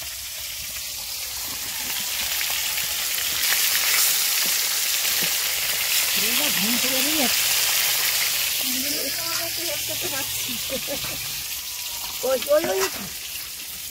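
Freshly caught pond fish fry in a pan, giving a steady, moderate sizzle throughout. Someone talks over it at intervals.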